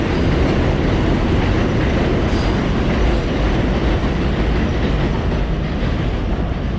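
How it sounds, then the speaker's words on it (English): A New York subway train runs on the express track beside a street walk from Long Island City to Astoria, Queens, giving a loud, steady rumble and rattle that fills the whole stretch with no talking. "That subway to the left of me is running on the express track."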